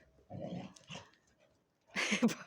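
A dog on an outdoor walk whimpers and gives short yips and barks in two bursts, a low whining stretch first and a louder, brighter outburst near the end, fairly close to the listener.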